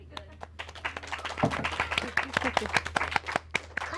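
Applause breaks out from a large live audience at a fan discussion event for Good Omens, a dense crowd of claps building and holding steady, with a voice talking over the start.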